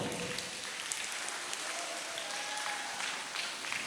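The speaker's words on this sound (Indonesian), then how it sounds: "Oke, tepuk tangan buat kita semuanya" Students clap together at a school orientation on discipline and order, a dense, steady applause filling the space without a break and continuing evenly throughout.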